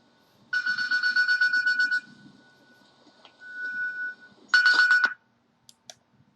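A mobile phone ringtone rings loud and near during a business presentation, playing a repeating electronic melody in two bursts with a brief pause between them and a few faint clicks after.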